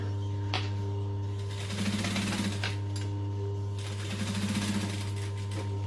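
A domestic sewing machine top stitches a backpack in two short bursts of rapid, even needle chatter, separated by a pause, over a steady low electrical hum.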